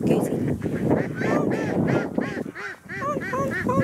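Geese honk repeatedly and loudly at close range, a flock calling over one another in a continuous noisy chorus.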